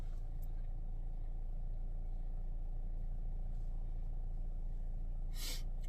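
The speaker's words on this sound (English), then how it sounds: "the car started." A 2014 VW Passat engine idles steadily after a remote start, giving a low, continuous rumble close by with no talking, and a brief brighter noise comes near the end.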